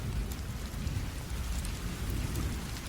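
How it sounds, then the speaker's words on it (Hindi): Heavy rain pours steadily with rumbling thunder on a stormy night, a dense, loud, continuous roar throughout with no voices. "मूसलाधार बारिश हो रही है। आसमान में बार बार बिजली चमक रही है और तेज गर्जना से चारों ओर थर्राहट मच रही है।"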